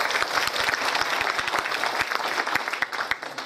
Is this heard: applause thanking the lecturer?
yes